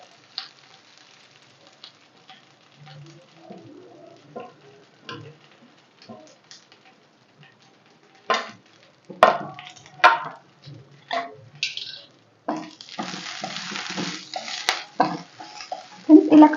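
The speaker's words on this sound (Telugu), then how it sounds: "ఫ్రెండ్స్ ఇలా కలుపుకుంటూ దీన్ని ఫ్రై చేసుకోవాలి" Dried drumstick leaves fry in hot oil while a spoon stirs them in a pan, giving soft crackling under intermittent scraping clatters that grow louder and busier toward the end.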